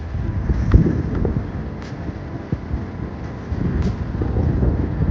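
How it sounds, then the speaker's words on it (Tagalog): Strong wind buffeting the microphone outdoors near paddlers on the water, a steady low rumble with gusty swells and occasional soft knocks throughout. "lakas ng hangin"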